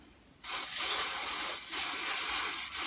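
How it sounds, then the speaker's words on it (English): Carb cleaner sprays onto a Honda HRH536 lawn mower carburetor in three loud, close hissing bursts separated by short pauses, with no voices. "I'm just going to spray a bit of carb cleaner on this."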